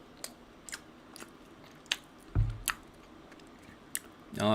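Close-up chewing of spam sausage and Korean pancakes, with scattered soft squishy bites and small crunches at irregular intervals, plus a louder mouth sound near the end.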